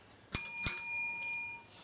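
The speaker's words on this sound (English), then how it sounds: "a double bell will be sound at the speaking time" Two quick bright bell strikes mark the end of speaking time at a primary school debate, ringing close and loud, their tones lingering and fading in a quiet room.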